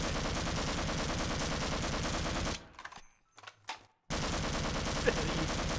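Rapid, dense gunfire in Half-Life: Source, a steady stream of loud automatic shots that briefly cuts out before resuming, with a person talking.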